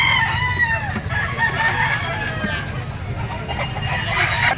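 A green-legged stag rooster of McLean-Gilmore bloodline crows repeatedly and loudly at a pet market, with other fowl clucking and crowing around it.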